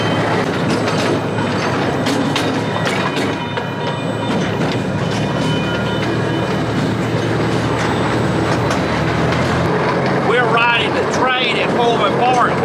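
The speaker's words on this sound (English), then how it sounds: "we are going to ride the train at Pullen Park." Amusement park miniature train ride at Pullen Park in North Carolina, a steady rumble of wheels clattering on rails with occasional squeals near the end, loud and continuous with people talking in the background.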